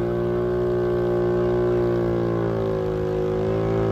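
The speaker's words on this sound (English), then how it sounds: "That's got to be the biggest four-wheeler on earth." A huge four-wheeler with extreme gear reduction churns through thick mud in a hole-shot event, its engine holding a loud, steady, droning drone with slowly shifting pitch throughout.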